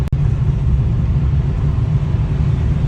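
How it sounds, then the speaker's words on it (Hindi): A car rumbles past close by, a low steady engine roar filling the whole moment with no voices. "बाजू से गाड़ी जा रही है"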